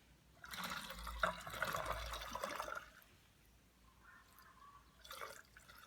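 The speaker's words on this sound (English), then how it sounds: "Like in the parts of the tank, it'll start bubbling and stuff. Like right there, it was bubbling." Water in a filled tank gurgles and bubbles in a faint burst for a couple of seconds, then settles into quiet trickling with a brief second gurgle near the end.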